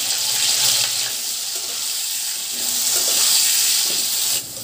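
Potatoes frying in oil with turmeric and salt, a loud, even hiss of sizzling fat that stays constant throughout with faint stirring bumps beneath, close to the pan and cutting off sharply near the end.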